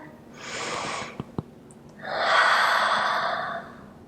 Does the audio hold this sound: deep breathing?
yes